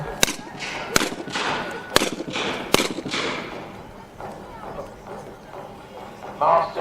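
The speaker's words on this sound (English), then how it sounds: "Short-range carronades are fired into the hulls of the ships" Model warship carronades fire into the wooden hulls of model ships, four sharp, evenly spaced reports about a second apart over a rumbling battle background, then a rougher burst near the end.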